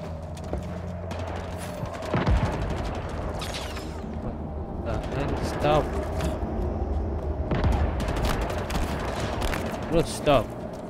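Bursts of gunfire from the video game Halo Infinite, PC campaign open-world exploration: rapid automatic fire with sharp shots and booming impacts, loud and near, with a voice talking over the shooting.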